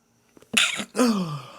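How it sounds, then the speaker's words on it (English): A single sharp sneeze, a quick inhaled build-up followed by an explosive burst, close and loud, alone without talk. "I gotta sneeze."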